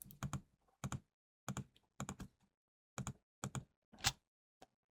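Repeated clicks from a computer mouse and keyboard shift key while 3D dental implant planning software is operated, heard as short, close, crisp bursts in irregular clusters with quiet gaps between them.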